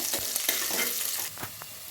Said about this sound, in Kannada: ಈರುಳ್ಳಿ ಬಂದ್ಬಿಟ್ಟು ಸ್ವಲ್ಪ ಲೈಟ್ ಬ್ರೌನ್ ಮಾಡಬೇಕು ನಾವು ಈರುಳ್ಳಿ ಎಷ್ಟು ಚೆನ್ನಾಗಿ ಫ್ರೈ ಮಾಡ್ಕೊತೀವಿ